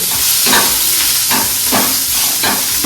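Green chillies frying in a pan, added one by one, giving a loud continuous sizzle with rhythmic scraping stirs of a spatula recurring about every half second, no voices.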